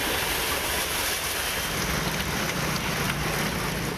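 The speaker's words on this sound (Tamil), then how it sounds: "நெல்லை சுற்றுவட்டார பகுதிகளில் அவ்வப்போது கனமழை கொட்டியது" Heavy rain pours steadily over the Nellai area of Tamil Nadu, a dense, continuous hiss that stays loud and even throughout, with no voices.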